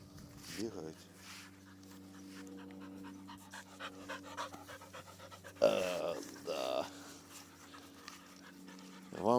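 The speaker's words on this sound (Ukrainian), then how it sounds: "Дресовані собаки, ну давайте." A dog pants rapidly and steadily up close, with rustling and movement noises, while a person talks over the breathing.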